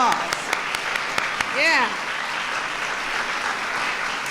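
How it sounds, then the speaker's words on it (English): An audience applauds military kids at a gathering, a broad wash of clapping under the room, with a voice briefly calling out over it and a few sharper claps near the start. "Give yourselves a round of applause."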